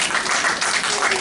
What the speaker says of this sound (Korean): 양순이 성도님 잠깐 일어나시면 박수로 환영하겠습니다